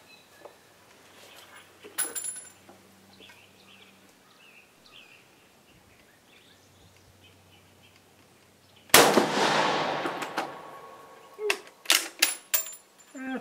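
A single loud 8x50mmR rifle shot from an M95 rifle at an outdoor range, a sharp crack followed by a rolling echo and several fainter cracking reports trailing off.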